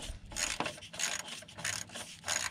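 Ratcheting wrench loosening a 10mm bolt on the lower driver's side of a car, near the electric fan, working from below: repeated rasping clicks in bursts, close and fairly quiet, with no talking.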